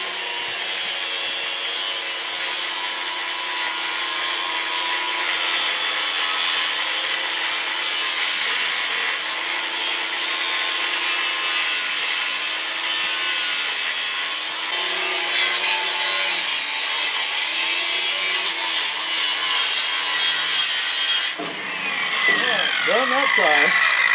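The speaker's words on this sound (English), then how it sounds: "the angle grinder is one of his favorite tools" A handheld angle grinder used in a knife maker's workshop keeps up a loud, steady, abrasive whine as it cuts, holding unbroken for about twenty seconds before the tone shifts and wavers near the end.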